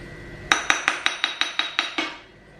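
Metal spoon clinking against a pan while ghee is added for frying dry fruits for sabudana kheer, about eight sharp evenly spaced taps, close and alone.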